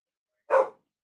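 A dog gives a single short, fairly faint bark in otherwise silent surroundings.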